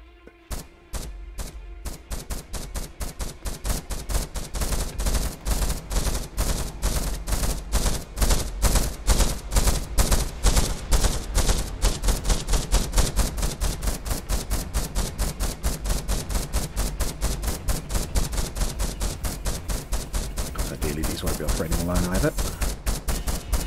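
In From the Depths, guns fire nonstop in rapid, evenly spaced shots, building from a sparse start into a loud, relentless stream for over twenty seconds, with a brief voice surfacing underneath near the end.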